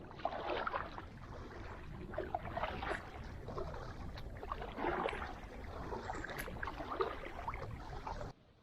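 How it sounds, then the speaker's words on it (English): Kayak paddling on the Santa Fe River, with soft rhythmic paddle splashes and water swishing close by under steady wind and outdoor hiss, ending abruptly. "we're going to paddle on back out of here and see what else we can find"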